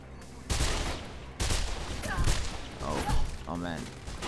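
Gunfire from Mirror's Edge, heavy bursts of shots thudding loud and close over a few seconds with a voice speaking between them.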